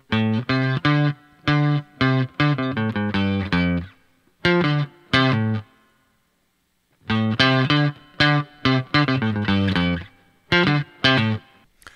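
Heavily distorted electric guitar chugs through a riff in short bursts, loud and up close, with a brief silent gap midway.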